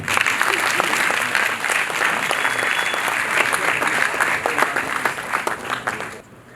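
Sustained applause from a conference crowd, dense clapping throughout that tapers off abruptly at the end.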